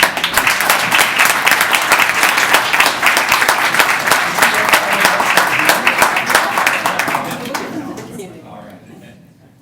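Audience applause for award winners and outstanding employees at a city Economic Development Committee meeting: dense, sustained clapping that fills the room, then thins and fades out toward the end.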